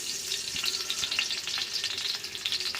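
Mustard seeds crackle and sizzle in hot tempering oil for a South Indian poodu chutney, a steady frying hiss dotted with sharp little pops throughout, close and fairly loud with no voices.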